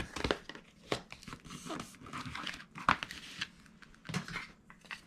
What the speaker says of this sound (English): So I'll peel away that backer sheet from my edge pieces.